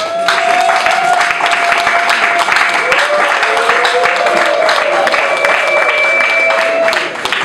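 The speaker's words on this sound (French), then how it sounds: "Je vous prie de l'applaudir très fort." An audience at a gathering in Kinshasa applauds a member of parliament, with loud, sustained clapping and crowd voices mixed in, steady throughout before easing at the very end.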